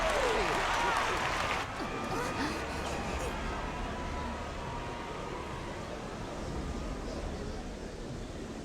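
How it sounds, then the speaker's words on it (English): Crowd cheering and applauding in a Final Fantasy XIV Dawntrail cutscene, a loud burst at the start that drops after a second or two into a softer, sustained wash of noise. "How gracious of you all to cheer the lesser claimants."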